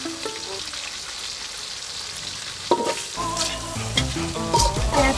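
Chopped onions hit oil already used for frying fish and crackle and sizzle steadily; after a few seconds a louder clatter of stirring joins the frying hiss.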